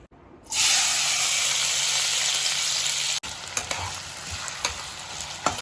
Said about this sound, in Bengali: এবার আলু ভাজার জন্য নুন দিয়ে দিচ্ছি আলুতে